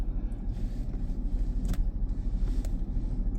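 A car pulls away at low speed during a reverse bay parking manoeuvre, a steady, close engine rumble with cabin noise and a couple of faint clicks.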